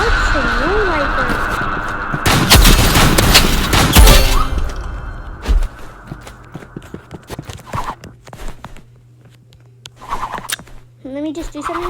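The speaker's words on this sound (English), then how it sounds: "These energy pistols are really good." Energy pistols firing in a Roblox video game, a dense burst of loud rapid shots followed by scattered sharper pops, with a person talking and game sounds around them.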